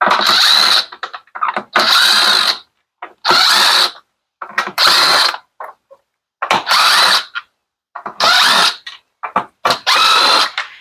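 A power drill unscrews the screws holding a plastic piece on an LG washer door hinge, loud close bursts of whirring, about seven separate runs of a second or so each with short pauses and clicks between them.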